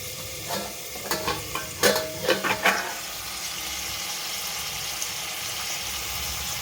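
Stuffed brinjal curry being stirred in a pan, a handful of scraping spoon strokes clustered early over a steady low sizzle that carries on alone afterward.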